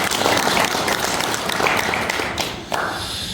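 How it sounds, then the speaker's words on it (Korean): Applause at a clan association's annual general meeting in Gwangju, a dense burst of hand clapping from a seated audience that holds steady, then thins and fades toward the end. "우리 임원진 여러분께도 이렇게 큰 박수 한번 주시면 감사하겠습니다."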